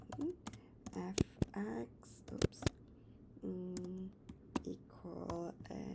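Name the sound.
typing keys on a TI-Nspire calculator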